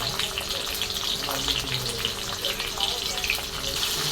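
Tomatoes frying in a pan for an eggplant and potato curry, a steady hissing sizzle with faint crackles, close and continuous, with someone talking softly at times.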